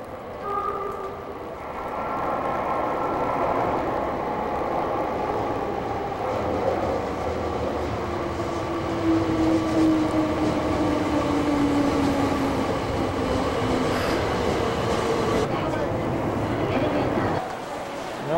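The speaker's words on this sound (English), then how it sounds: "Decided to take a subway back to, well, to Kyoto Station." A subway train rides toward Kyoto Station, a loud steady rumble of wheels and car noise with a sliding tone rising and falling midway, faint voices murmuring underneath.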